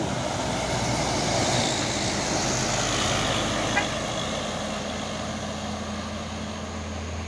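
A Chandra Mercedes-Benz bus heads out from Dharma Raya toward Bagan Batu in Sumatra, its engine a steady, close, low rumble that holds across the whole stretch, with a single faint click partway through.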